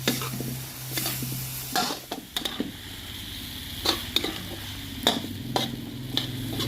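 Wax gourd stir-fried with egg and plenty of pepper in a pan, a utensil scraping and tossing in uneven strokes over a steady low sizzle, with several sharp metallic clinks, close and fairly loud.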